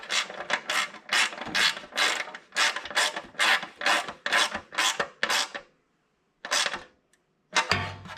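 A ground wire connection on a race car dash is tightened with a ratcheting tool, giving a rapid, even series of close, loud ratchet clicks that break off, then come back in short bursts.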